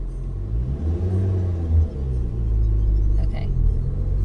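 A car's engine idles and rumbles low and steady during a manual transmission driving lesson, with a brief rev partway through and voices talking quietly over it inside the cabin.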